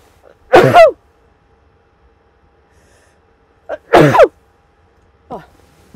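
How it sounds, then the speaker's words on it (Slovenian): A woman sneezes twice, loud and close, each burst a sharp explosive exhale a few seconds apart, with a faint breath or sniff afterward in an otherwise quiet room. "Mislim, da bom kihala, sem trenutek."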